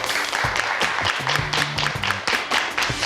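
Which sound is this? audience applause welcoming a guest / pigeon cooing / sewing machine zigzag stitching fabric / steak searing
audience applause welcoming a guest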